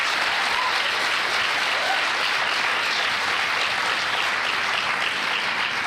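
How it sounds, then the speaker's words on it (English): Sustained audience applause at a school graduation and musical event, a steady, dense wash of many hands clapping continuously without breaks or voices. "can we give them another round of applause"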